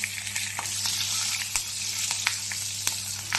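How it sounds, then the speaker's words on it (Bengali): Two or three green chillies sizzle in hot oil with whole black cumin seeds, a steady close crackle with occasional sharp pops and no voices. "এখন আমি 2-3টা কাঁচা লঙ্কা তেলে দিয়ে দিলাম।"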